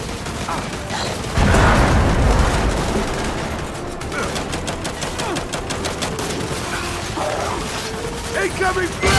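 Gears 5 combat with a grenade blast: a loud broadband burst near 1.5 seconds rolls into sustained rapid gunfire and chatter of battle, with voices calling out over the action.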